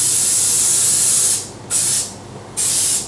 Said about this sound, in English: give it a little light spray just to get that nice shiny finish